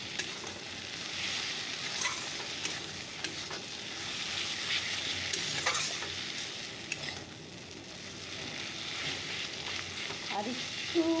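Dried fish fries in a pan with turmeric, a continuous soft sizzle with occasional scraping stirs, fairly quiet and steady throughout.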